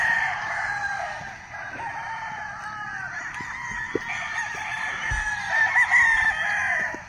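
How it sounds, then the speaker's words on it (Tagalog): Many roosters crow over and across one another with clucking chickens, a loud, dense chorus of fowl outdoors in the morning that continues steadily throughout. "Dami-dami manok po."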